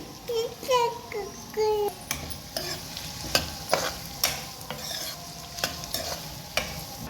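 Cabbage and curry leaves sizzle and fry in a pan while a spatula scrapes and stirs in repeated sharp strokes, with a voice talking over the cooking.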